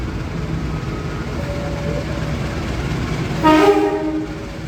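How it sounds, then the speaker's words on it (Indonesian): A train arrives at a station platform, rumbling steadily nearby, with a brief louder horn-like tone near the end over continuous rail noise. "kereta masuk di jalur 4"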